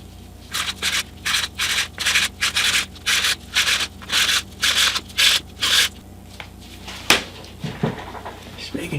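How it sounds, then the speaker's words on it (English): Sanding a guitar rosette of laminate strips flush to its wedges: about a dozen steady, evenly spaced rasping strokes, close and loud, then a few knocks and handling sounds at the end. "And I want to sand everything flush to the wedge."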